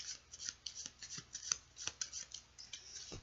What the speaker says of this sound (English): So I'm just going to shuffle this Lenormand deck.